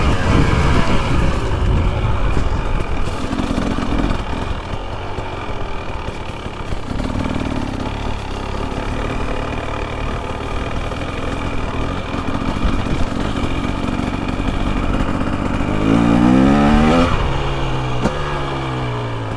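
KTM 300 two-stroke dirt bike engine lugging at low RPM, a steady rough mid-pitched putter near the microphone that holds for most of the run, then briefly rises in revs and settles again.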